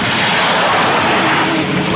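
A car bomb goes off in a movie scene, a dense roaring blast that fills the whole two seconds at full loudness, with no talk over it.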